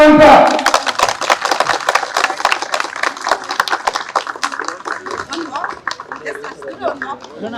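Crowd clapping at a political gathering in Karnataka, a dense, sustained patter of many hands that swells at the start and carries on steadily, with voices and chatter mixed in underneath.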